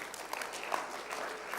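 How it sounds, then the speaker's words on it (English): Audience applause for a participant at a masterclass, a steady patter of clapping that sounds fairly distant and soft, running evenly for a moment without any voices. "Round of applause."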